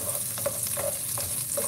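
Crushed garlic hitting a hot pan for chicken wing adobo, a sizzle with quick stirring scrapes repeating about every half second, close and fairly loud.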